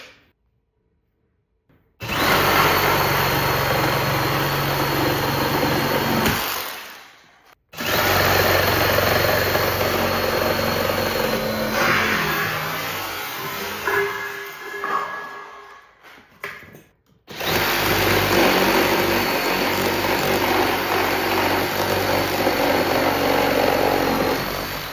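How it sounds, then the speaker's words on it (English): A Kobalt 24v brushless reciprocating saw cutting up an old recliner, loud and close: a steady buzzing drone in long runs, broken by short pauses and a stretch of strained, uneven cutting. "I'm cutting up an old recliner at the moment with a reciprocating saw."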